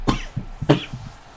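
Two or three short, close coughs in quick succession, each sharp and throaty, fading into a quieter rasp, heard during Pokémon Sword and Shield gameplay.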